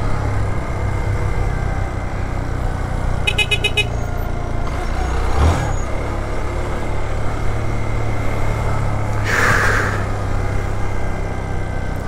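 A heavy truck (carreta) passes on a highway: a steady road roar and engine rumble throughout, with a brief horn-like blare partway through and no voices.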